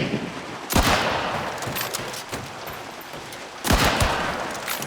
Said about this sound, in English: I miss my first shot, but thanks to my higher position, I am able to add another shot and down the advocate